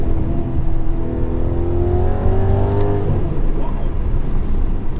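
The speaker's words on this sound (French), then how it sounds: "Une Maserati Gran Turismo S." A Maserati GranTurismo S with a 4.7-litre Italian V8 revs up close, its note climbing steadily in pitch for about three seconds before settling back to a rumbling idle.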